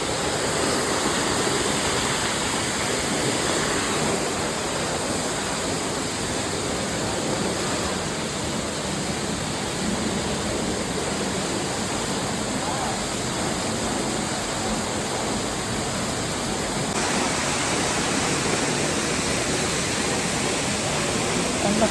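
Steady, loud rush of a waterfall at the Garden of Caves, water spilling down like it pours from a pot, a continuous broadband roar filling the whole stretch without pause.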